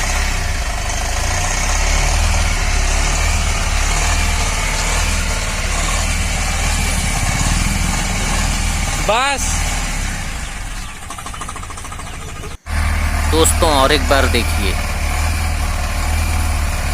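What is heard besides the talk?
Tata truck engine started, running and emitting white smoke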